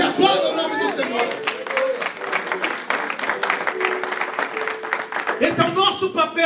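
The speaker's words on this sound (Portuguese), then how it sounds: "Diga glórias a Deus e aplauda o nome do Senhor" A church congregation at a missions worship service applauds steadily for several seconds, a dense wash of clapping with crowd voices mixed in, rising again briefly near the end.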